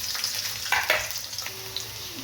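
Green chillies frying in a pan for poha, a steady close sizzle with a few sharper crackling spurts as they hit the hot oil, with no talking.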